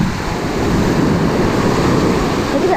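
Ocean surf at the beach in Ocean City, Maryland, a loud continuous wash of breaking waves mixed with wind noise, with no clear voices.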